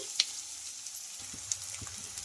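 Potatoes, onions and chopped green chili fry in a pan, giving a faint, steady sizzle with a few soft clicks and stirring taps close by, and no talking.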